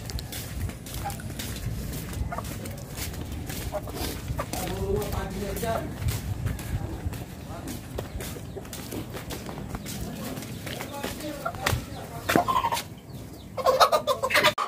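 A flock of chickens clucks and squawks close by throughout, over steady background noise, rustling, and people talking.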